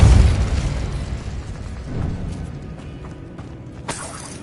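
A Repulsor spell blast fired in the video game Hogwarts Legacy: a loud, booming burst right at the start fades into a rumbling tail, and a second, sharper impact follows near the end.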